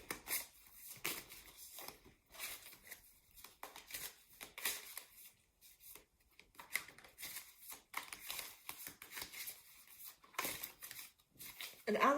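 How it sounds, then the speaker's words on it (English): A deck of oracle cards is shuffled by hand, giving soft repeated riffling and papery flicks in uneven bursts, quiet and close, with occasional faint speech. "Let's give these a shuffle."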